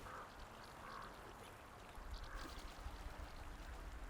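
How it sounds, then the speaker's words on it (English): Ducks quack beside flowing water trickling over rocks, the calls faint and intermittent over a steady rush of stream and wind noise. "You listen to the birds."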